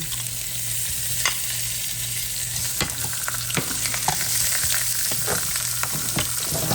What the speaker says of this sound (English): So we're just going to go ahead and saute these onions